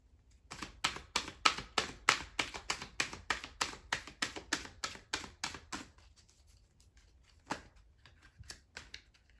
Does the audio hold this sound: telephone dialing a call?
no